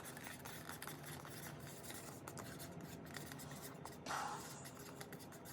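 Marker pen writing on plastic seedling pots, a soft continuous scratchy scribble that is close and fairly quiet, with a brief louder stroke near the end.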